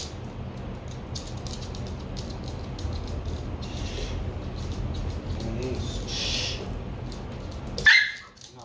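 A female dog gives one brief, high whine right at the end of an indoor e-collar training session, after a long stretch of steady background noise.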